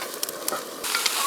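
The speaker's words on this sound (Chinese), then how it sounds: "锅里倒点油，下入葱姜，把丝瓜轻轻炒一下" Luffa gourd is stirred gently in a hot oiled wok with scallion and ginger, a brief close sizzle broken by light clicks and scrapes of the spatula, with no talk.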